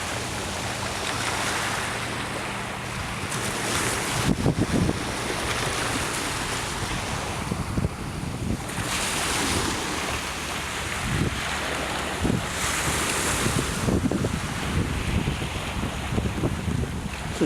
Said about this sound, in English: It's a gentle washing of the waves onto the beach here.